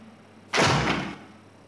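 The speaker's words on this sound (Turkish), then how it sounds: "Oğlum kapı açıldı." A door swings open in the VR horror game Insidious 3, one short loud whoosh and thud lasting about half a second, heard alone.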